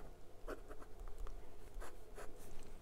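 An extra fine nib on a 2023 Hongdian N1S fountain pen writes on paper, making soft, close scratchy strokes in short bursts over quiet room tone.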